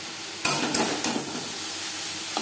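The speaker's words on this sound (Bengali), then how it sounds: "নারকেল ও বরবটির সাথে হলুদের গুঁড়ো বেশ ভালো করে মিক্স করে দেবো" Grated coconut and yardlong beans tossed with turmeric powder in a hot pan over medium flame: a close, continuous sizzle broken by a few sharp spatula knocks against the metal, no talking.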